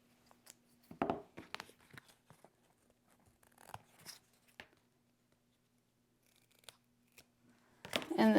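Scissors snipping sticky tape off a cardboard box, a few close crunchy cuts and rustles separated by quiet pauses, ending in a louder burst of handling.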